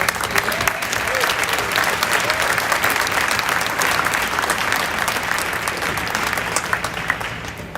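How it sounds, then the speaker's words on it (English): An audience at a 2023 honor society induction ceremony claps loudly for the new members, with dense, sustained applause and scattered crowd noise throughout. "Please join me in a round of applause for the new members."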